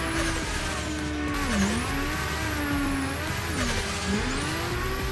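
A drift car is thrown through a corner with a clutch kick and e-brake, its engine revving hard and the tires squealing in long wavering tones, close and loud throughout.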